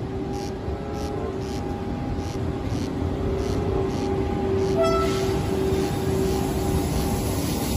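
A fast train rumbles past steadily, a continuous broad roar with a thin tonal whine riding on top.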